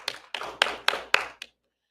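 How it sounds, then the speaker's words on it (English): Short burst of applause from the audience at a live coin auction after a winning bid, a few sharp claps spaced out over a second and a half, then silence. "I think that merits some applause."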